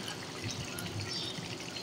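Water pours steadily into a cooking pot of kaleji (liver) gravy, a soft continuous splashing pour at moderate level with no talk.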